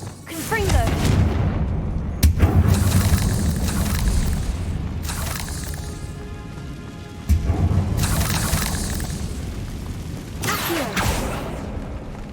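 Confringo blasting curse explosions in Hogwarts Legacy: several loud booming blasts in sequence, each a sharp hit followed by a rumbling decay, with a voice speaking over parts of it.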